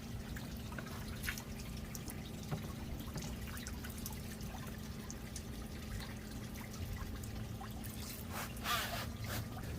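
Chemical rust remover poured onto a boat trickles and drips in a faint, steady stream, with a constant low hum in the background.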